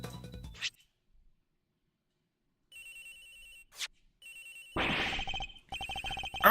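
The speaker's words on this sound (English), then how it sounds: "It's ringing from somewhere, sir!" A phone ringing in the Ace Attorney Investigations video game, an electronic ringtone sounding in several short bursts with gaps of silence between them, fairly clear and close, with no talk over it.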